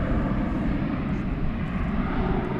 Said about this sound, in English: There goes American Flight 2568 to San Diego, an Airbus A321.